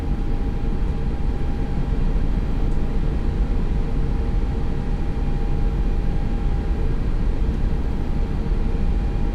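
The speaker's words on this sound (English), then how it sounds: "Alright, I'm gonna turn the sounds up as we take off" Airliner engines rolling down the runway for takeoff in the X-Plane 11 flight simulator, a steady, dense roar with a faint constant whine, unbroken and even in loudness throughout, no voices.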